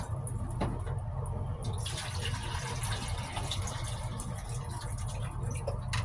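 Steady running town tap water filling a Brita filter pitcher, a continuous close gush with a low rumbling hum underneath, no voices.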